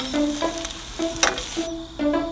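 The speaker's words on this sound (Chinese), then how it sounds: "现在煎。 虾仁煎。" Shrimp sizzle in a pan at a campsite, a bright crackling hiss under short rhythmic tonal clinks, close and fairly loud with no talk.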